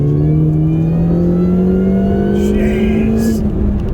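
A Mini Cooper S pulls out of a corner with a loud, close engine note that rises steadily in pitch as it accelerates, with faint cabin noise around it.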